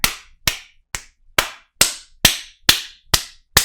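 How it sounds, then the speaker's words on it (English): A round of applause from a small group, about nine separate sharp claps spaced roughly half a second apart, each a bright crack with a quick fade, loud and close with no talking. "Round of applause."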